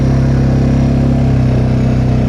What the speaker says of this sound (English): It's super fun just to like change up the revs and just working in the engine.